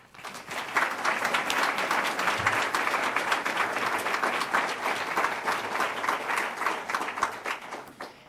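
Audience applause welcoming speaker Paula Kerger at the City Club of Cleveland: a fairly faint but full burst of many people clapping, swelling in quickly and holding steady for several seconds.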